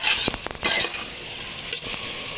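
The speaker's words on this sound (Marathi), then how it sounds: "भाजी परतून झाली बघा, तेल सुटायला लागलं।" Potato and peas sauté in masala and oil over medium heat for veg pulao, giving a close, soft sizzling hiss broken by a few quick spatula scrapes and stirs.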